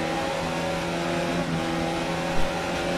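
Formula 1 race car engine in the F1 2019 racing game, a steady harmonic drone held at high revs throughout, loud and close, with a brief bump near the end and no talking.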